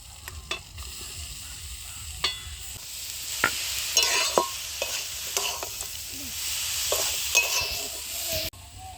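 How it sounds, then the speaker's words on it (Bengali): Beetroot and carrot fry in a pan with salt and turmeric, a soft steady sizzle broken by repeated sharp scrapes and clinks of the spoon as the vegetables are stirred close by. "বিট আর গাজরটা ভালো করে নেড়েচেড়ে নিয়েছি।"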